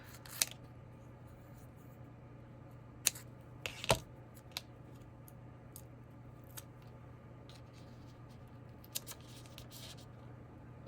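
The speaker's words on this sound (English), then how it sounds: "let's cut this in half" Scissors cut a piece of card in half on a craft table: a few short, sharp snips and clicks spaced irregularly over a quiet background hum, fairly faint and close, no speech.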